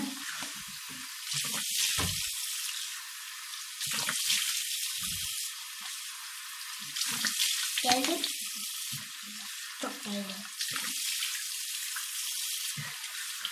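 Water running intermittently in a bathroom sink during face washing, coming in several splashy bursts with gaps between them, alongside soft handling noises.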